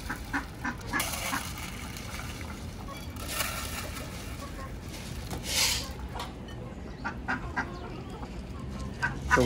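Pigeons at feeding time in a zoo, fluttering and calling in a cluster of close bird sounds, with bursts of wingbeats and soft coos over steady background noise.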